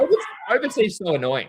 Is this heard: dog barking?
yes